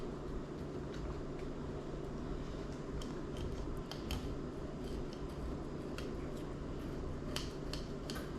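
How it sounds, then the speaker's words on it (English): A heavier knife slices open the belly of a freshly caught fish, likely a trout, out on the ice at Blue Lake: sharp snipping clicks scattered over a steady, dense background hiss, close and moderately loud. "what I want to do is cut open the belly of the fish"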